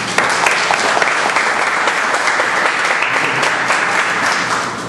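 A congress audience at a medical conference bursts into sustained, dense applause that fills the room at steady loudness before easing off slightly at the end.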